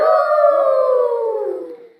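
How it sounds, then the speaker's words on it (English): A coyote lets out a single long howl in open country, a clear, loud, drawn-out tone that slowly falls in pitch and fades away with no other sounds around it. "A coyote howled in the distance."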